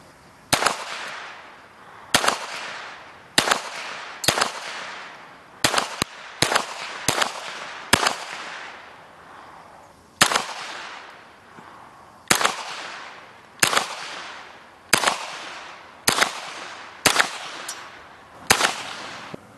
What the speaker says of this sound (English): let's see if I can get some footage of this shooting